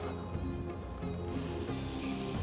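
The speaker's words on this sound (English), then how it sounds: "the prawns in a warm frying pan, not too hot, so as not to make the shell go too hard" King prawns and red mullets frying in a warm pan, a steady soft sizzle with faint crackle, close and fairly quiet, with no talking.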